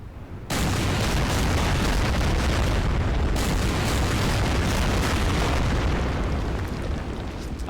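A continuous dense barrage of explosions bombards an 80mm coastal gun in the Order of Battle Pacific strategy game, rumbling loudly and steadily for several seconds.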